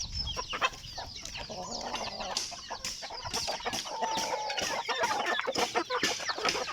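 A flock of Rhode Island Red chickens clucks close by in a steady, busy chatter of overlapping calls, with no talking.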